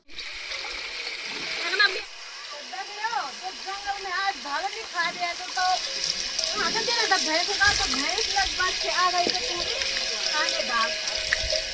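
Water runs from a tap into a tank, a continuous splashing gush with some watery bubbling, while people talk over it.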